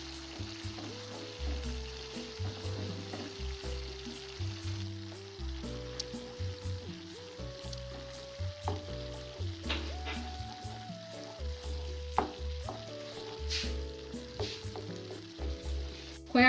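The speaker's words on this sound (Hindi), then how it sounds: "खोया डालने के बाद इसको तकरीबन 5 मिनट तक भूनना है।" Khoya (milk solids) roasting in ghee in a pan for walnut burfi gives a steady, soft sizzle with light stirring, running beneath continuous background music.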